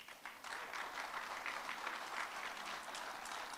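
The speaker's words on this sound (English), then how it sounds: "So let's give her a round of applause." A round of applause from the audience at a charity business event, steady dense clapping that holds evenly at a moderate distance for a few seconds without talk.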